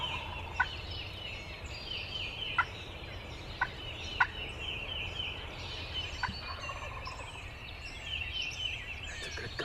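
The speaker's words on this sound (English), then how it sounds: "we can hear some gobbling right in front of me around the ridge" Wild turkeys gobble at a distance around a wooded ridge, several short, faint gobbles spaced irregularly over quiet outdoor ambience with a few sharp clicks nearby.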